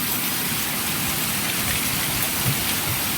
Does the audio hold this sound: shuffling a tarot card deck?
no